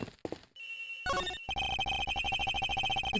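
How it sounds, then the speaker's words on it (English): Cell phone ringtone from the Ace Attorney Investigations video game: a bright electronic melody that starts after a few short blips and repeats in a steady, pulsing pattern, clear and fairly loud with no talk. "I better find that cell phone fast!"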